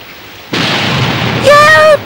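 In a 1990 Moomin cartoon, a sudden rush of rain hisses in loudly and steadily, and a voice cries out over the downpour near the end.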